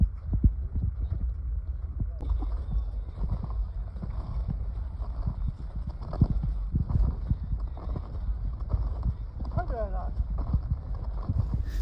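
A caravan of donkeys walks through snow on a mountain pass, with soft, steady, irregular footfalls and crunching, wind buffeting the microphone, and voices talking over the hoofbeats.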